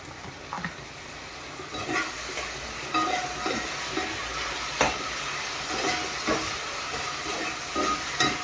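Saltfish sizzles and fries in a pan on a Jamaican home stove, a continuous close hiss with occasional stirring scrapes and pops, with no talking.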